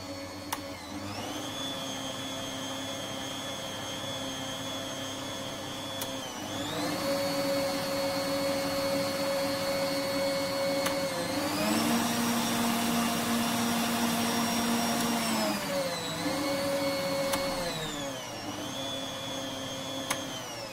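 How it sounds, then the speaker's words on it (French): Bosch MUM5 kitchen food processor motor running at speed 4, a loud steady whine and hum whose pitch steps up and down as the speed changes, close with no talking. "c'est à partir vraiment de la vitesse numéro 4 qu'on franchit un palier et que le bruit devient tout de suite plus important."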